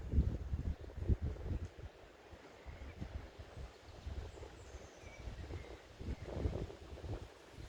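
Gusty wind blowing over a wheat field rushes in uneven swells, rising and falling across the stretch with a soft rustling texture; no one speaks.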